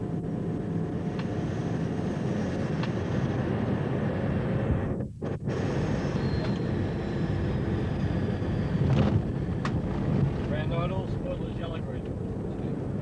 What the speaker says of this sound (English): an increase in engine noise is normal as we make our final approach to land